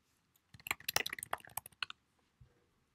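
Quick run of keystrokes on a computer keyboard entering a Heroku Docker command, a close, crisp flurry of clicks lasting about a second and a half in a quiet room, then a final tap.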